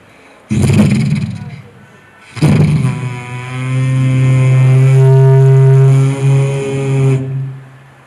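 A voice at a Kerala State School Arts Festival mimicry performance imitates a tree being cut, two sharp bursts followed by a long, low droning buzz like a saw grinding through wood, close and loud.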